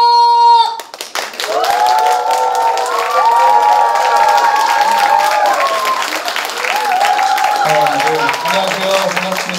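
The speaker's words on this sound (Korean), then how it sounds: "음악이 흘러나오면 여러분의 큰 박수로 맞아주시면 고맙겠습니다." A concert audience greets a singer with applause as his music starts, a brief tone giving way to crowd clapping and cheers beneath a loud song intro with sustained melodic notes and a bass line.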